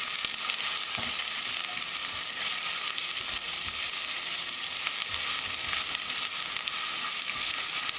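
Green chili, ginger and garlic fry in hot oil for chicken soup, a steady, close, bright sizzle with faint crackles that holds evenly throughout, without talk.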